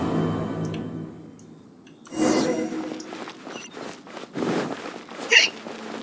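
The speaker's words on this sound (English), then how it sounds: "Oh my god, hiccups." A Genshin Impact game character lets out a few hiccups, short sharp bursts spaced over a few seconds amid quiet footsteps and faint background game sounds, with no talking.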